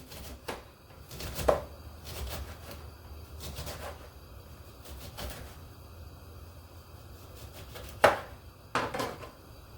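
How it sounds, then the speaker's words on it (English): Fresh lemons and limes sliced with a knife for a ginger flu brew, a handful of crisp, irregularly spaced cutting knocks against a board, close and fairly quiet, with no talking. "Just slice the lemons up."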